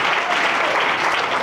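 Audience applause at a church service, a dense continuous wash of many hands clapping steadily at moderate loudness throughout, with no distinct voices standing out.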